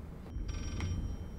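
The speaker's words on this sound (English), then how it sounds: "And now a different phone's ringing." A telephone rings in the horror video game Layers of Fear, a brief electronic ring standing out faintly over a low, droning ambient background.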